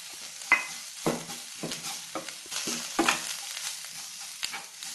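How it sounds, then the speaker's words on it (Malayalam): Onions fried with salt, turmeric and chili powder are stirred in a pan, with a sharp scrape or clack roughly every half second over a low, continuous sizzle. "ഉള്ളി മൂത്ത് ചെറിയ മണം വന്നു തുടങ്ങുമ്പോൾ ഉപ്പും മഞ്ഞൾപ്പൊടിയും മുളക് പൊടിയും ചേർത്ത് 1/2 മിനിറ്റ് നന്നായിട്ട് യോജിപ്പിക്കണം"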